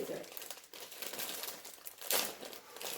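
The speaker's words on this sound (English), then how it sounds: "I'm going to open this bag for the powder." A paper bag of Ghirardelli brownie mix being torn open by hand, close crinkling and rustling throughout with a sharper tearing burst near the end, while people chat quietly alongside.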